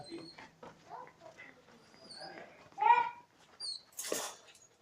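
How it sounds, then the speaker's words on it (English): Puppies in a home make brief whimpering and squeaky yelps, with a sharper cry near the end, mixed in with people talking close by. "There's our puppy."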